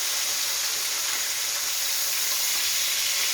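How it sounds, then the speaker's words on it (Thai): Small fish frying in hot oil, a loud, dense, steady sizzle close by that holds unbroken throughout with no talking over it. "พอน้ำมันร้อนเราก็หลีไฟนิดนึงเพราะปลาเราไม่ตัวใหญ่เนาะ จะทอดเนาะดู ทีเดียวเลยทอดให้มันเห"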